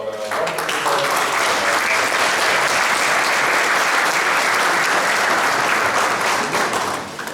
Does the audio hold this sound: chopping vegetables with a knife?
no